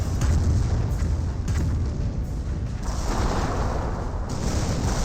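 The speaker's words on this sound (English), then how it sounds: "but we're seeing Calliope barrages" Calliope rocket artillery barrages pound the ground in Company of Heroes, a steady rumble of overlapping booms and blasts with a few sharper impacts across several seconds.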